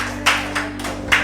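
Congregation in a church clapping and acclaiming the Lord, with several short bursts of handclaps rising and fading over a steady low hum.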